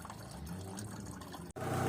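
Fresh engine oil poured into a diesel car engine during an oil change, a steady liquid gurgling fill that briefly cuts out and then resumes more brightly, close and fairly quiet with no talk.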